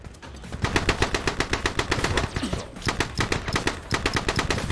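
Rapid bursts of assault rifle fire rattle out in a video game, loud and close, in several sustained strings separated by short pauses.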